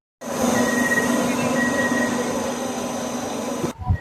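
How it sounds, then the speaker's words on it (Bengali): Inside a Sealdah–Ranaghat AC local train, a steady, loud rumble and hum of the moving carriage run continuously, with faint tonal whines, then drop away into a brief thump at the end. "এখন ট্রেনের মধ্যে ফাইনালি উঠে পড়লাম"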